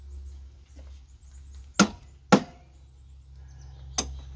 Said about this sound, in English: we'll just tap it with the file here and cut it, or the chisel here,